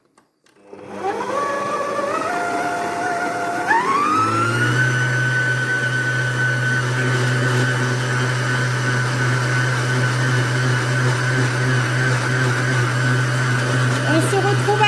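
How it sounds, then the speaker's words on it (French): Electric stand mixer kneading milk bread dough of flour, salt and sugar until smooth, whirring up after switch-on to a loud, steady motor whine with a low hum, continuing close throughout. "Ensuite, je vais mélanger jusqu'à obtenir une pâte lisse."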